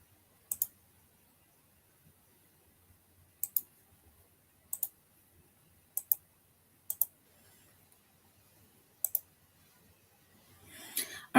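Someone typing a username and password on a computer keyboard, brief clusters of sharp close clicks separated by quiet pauses, ending in a short rustle, no talking.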